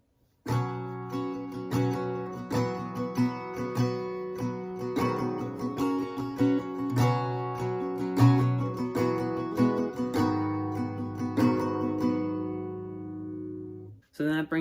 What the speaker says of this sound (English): And to play the entire break all the way through, it would sound like this.